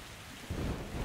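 A Metro Exodus storm in which steady rain and wind wash broadly, then a deep rumble of thunder swells up halfway through. It is faint and continuous, with no voices.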